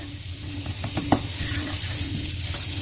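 Salted butter sizzles in a pan, ready for sautéing omelette ingredients, a steady close hiss with a few soft scraping stirs and light pops, no voices.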